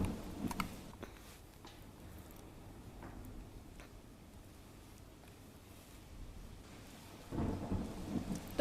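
Heavy monsoon downpour in Deesa, Banaskantha, with steady rain hissing on surfaces and low rumbles of thunder rising at the start and again near the end.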